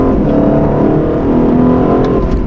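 An Aston Martin DB12 with 680 hp sent to the rear wheels accelerates hard, its engine producing a loud, steady, rising roar heard from inside the car for the whole stretch, with no talking over it.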